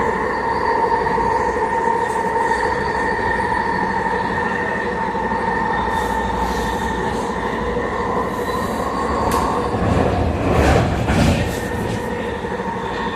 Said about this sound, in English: Notice that inside and outside of the SkyTrain carriages, they're not the quietest of carriages. They're pretty noisy